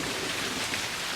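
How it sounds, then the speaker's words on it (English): Rain falls as a steady, even hiss of many drops striking a surface, constant and fairly loud, with no voices. "And this is rain."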